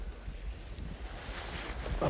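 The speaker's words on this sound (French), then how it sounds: "le vent commence à nous embêter" Wind buffeting a microphone at a lakeside or riverside fishing spot, a steady low rumble with gusts swelling louder toward the end, heard alone without talk.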